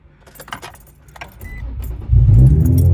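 Keys jangle briefly, then an air-ride bagged Infiniti G35 cranks and its engine catches with a loud low rumble that settles into a steady idle close by.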